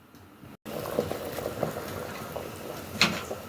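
Coconut milk boils down to custard in a pot in a Jamaican kitchen, making a soft, continuous bubbling with scattered pops and a brief clink of pot or utensil, close and fairly quiet.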